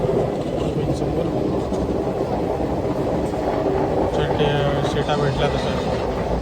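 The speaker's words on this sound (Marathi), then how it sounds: "ट्रेनमध्ये बसलोय" Train running, heard from inside a passenger coach on a Mumbai to Konkan journey, as a steady dense rumble and rattle throughout, with people talking over it.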